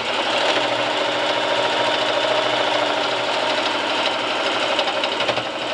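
A sewing machine set to stitch length 2 runs steadily while stitching a prefold cloth diaper, giving a loud, close, unbroken mechanical whir that lasts throughout.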